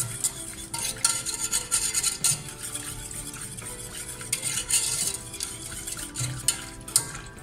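A utensil stirs and scrapes around a pot of milk with lemon zest and vanilla in repeated strokes, with soft clinks against the sides and a faint bubbling underneath.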